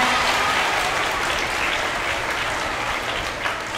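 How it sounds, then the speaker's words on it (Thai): A Thai audience bursts into dense, steady applause, many people clapping at once at a close, loud level that holds evenly for the whole stretch and eases slightly near the end. "ใครที่ยกมือปรบมือตัวเองหน่อย"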